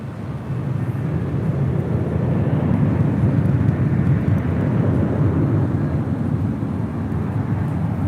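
Alaska Airlines jet in special livery rolling for takeoff on runway 25 right at LAX, a steady broad roar of engine noise held for the whole stretch, moderately loud and distant-sounding, with no speech.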